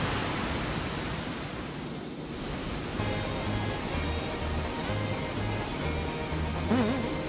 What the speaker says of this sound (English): Water, here it comes! We need to switch it back before we're washed away!